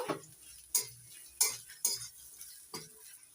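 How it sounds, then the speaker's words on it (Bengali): Chopped carrot stir-fried with ginger in a pan: a quiet sizzle broken by five sharp spatula scrapes and knocks at irregular intervals, close by and alone. "এবার দিয়ে দিচ্ছি কেটে নেওয়া গাজর গাজরটা একটু ভেজে নেব"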